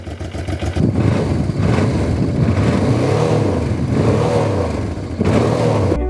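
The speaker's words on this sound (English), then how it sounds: "It's an aftermarket exhaust, so it's got a different tone" A Honda motorcycle with an aftermarket exhaust idles close by with a deep, throaty burble, rising briefly in a couple of revs before settling back.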